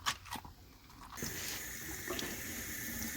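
Water runs from a washroom tap onto the tire of a TRX4 or GEN8 RC truck, a soft, steady splashing stream that begins after a quiet start and holds at a low, close level.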